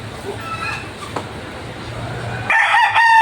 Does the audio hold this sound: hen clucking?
yes